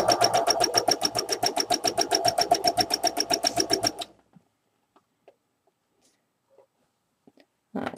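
A sewing machine stitches rapidly in steady rhythmic bursts while doing free-motion applique in a zigzag down a fabric stem, then stops, leaving near silence with a few faint handling clicks.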